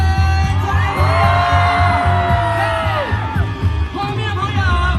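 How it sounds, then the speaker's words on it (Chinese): Concert crowd screaming, whooping and cheering at a Taiwanese-language classic song concert in Zhongli, loud and sustained with shrill yells rising over the hall's low music throughout. "全场再来一点尖叫声"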